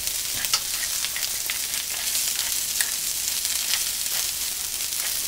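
Cabbage sizzles steadily in a hot pan with a pinch of sugar and black pepper, a loud continuous frying hiss with stirring scrapes throughout.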